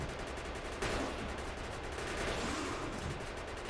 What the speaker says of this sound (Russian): 3 пушки стреляют.